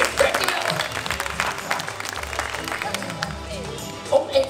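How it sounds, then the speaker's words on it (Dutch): A zoo show audience at an adventure zoo applauds a brave volunteer, steady crowd clapping sustained throughout with a swell near the end. "Mag ik even een heel groot applaus."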